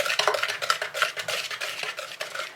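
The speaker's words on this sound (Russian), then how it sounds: "Перемешиваем." Whisk stirred through sesame cookie batter of sifted flour and baking powder in a bowl, quick rhythmic clinking and scraping strokes against the sides, close and fairly loud, with no talk.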